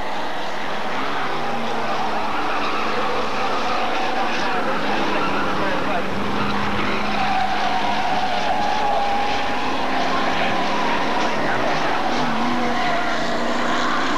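Hotstox stock cars racing at Birmingham, a dense continuous roar of several engines circling the track, heard under a commentator's steady talk.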